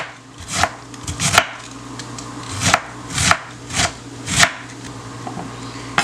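A knife chops food on a wooden cutting board in an irregular series of about eight close, sharp thuds, some coming in quick pairs, with brief quiet gaps between them.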